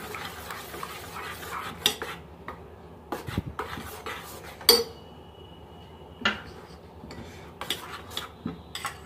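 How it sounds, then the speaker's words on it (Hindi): Mango pulp being stirred into rice kheer: intermittent scraping and clinking of a spoon against the pot, close, in irregular bursts separated by short quiet gaps. "ये मैं सारा इसमें ऐड कर दे रही हूँ और हम इसको अच्छे से मिक्स कर लेंगे"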